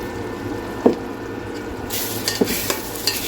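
Spice paste fries in hot oil in a pan, a low steady sizzle broken by a few sharp clacks and scrapes of stirring, with a brighter, louder hiss rising partway through.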